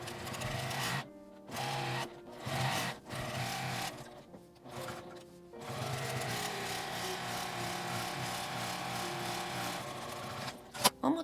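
A sewing machine stitches along the folded edges of fabric straps for a shoulder drawstring bag, running in several short bursts with brief pauses, then a longer steady run.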